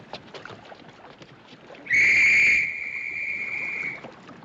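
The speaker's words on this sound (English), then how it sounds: "That's an officer's whistle." An officer's shrill whistle aboard a ship sounds in one sustained blast lasting about two seconds, loud and near, rising over faint background noise and murmuring voices.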